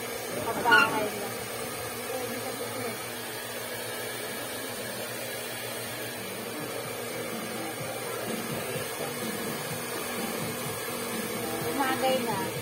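A short hair dryer blows in a steady, continuous rush that fills the background while people talk over it.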